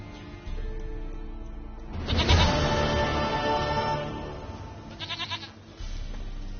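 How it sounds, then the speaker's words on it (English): A goat in The Witcher 3 video game bleats in two bursts, a long, loud wavering cry followed by a shorter, quieter bleat, over a steady low background hum. "Goat of mine, dearest, sweetest goat."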